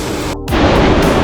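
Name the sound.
waterfall at Rainbow Falls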